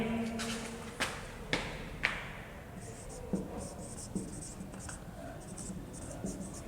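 Writing on a board during a physics lesson: faint scratchy strokes and sharp taps of the marker or chalk, under a teacher's quiet talk in a room.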